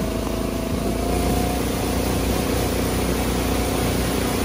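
Lifted golf cart engine running steadily on a campground off-road trail with the throttle restricted, a continuous mid-pitched drone with a faint high whine held at even loudness throughout.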